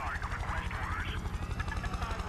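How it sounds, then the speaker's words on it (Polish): Military helicopters in the video game Prototype 2 give a steady, loud rotor thump that chops evenly throughout, with game effects and a speaking voice layered over it. "Cholerne śmigłowce."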